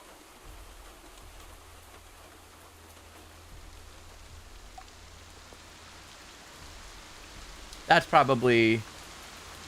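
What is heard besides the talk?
rain sound effect, a decent drizzle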